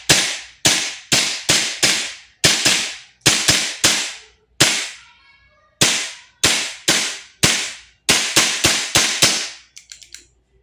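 Rapid bursts of sharp cracking shots from a Kingarms TWS 9mm gas blowback airsoft carbine, loud and close, fired in quick strings with brief pauses, ending in a few weaker pops as the gas runs out.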